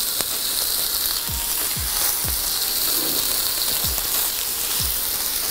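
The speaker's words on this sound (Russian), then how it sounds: "И обжариваем буквально по минуте с каждой стороны" Steak searing in a very hot pan, a steady loud sizzle throughout with a few soft thumps as pieces are placed or turned.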